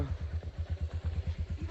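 A motorcycle engine on a village road in Nepal runs with a rapid, even thumping pulse, close and moderately loud.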